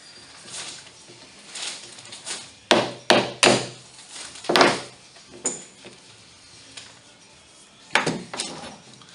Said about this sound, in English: A lot of clamps.